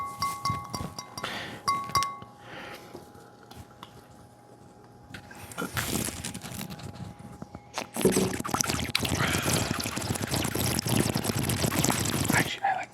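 Polar carbonated soda water poured and fizzing, first with a few quiet clinks and splashes, then a loud, continuous crackling fizz over the last several seconds.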